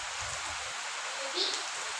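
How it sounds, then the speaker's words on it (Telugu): Heavy rain falling outdoors, a continuous, even hiss of drops that stays steady and fairly loud from start to finish. "మరి మస్తు వర్షం పడుతుంది కదా"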